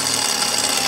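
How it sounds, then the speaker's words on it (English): A drill spins with a Harbor Freight left-hand bit cutting into metal on an old Cobra Mustang, a short, loud, unbroken whirring close up with no speech over it. "I'm actually using left-hand drill bits from Harbor Freight"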